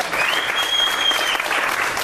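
A church congregation breaks into sustained, dense clapping that holds steady for about two seconds with no one speaking.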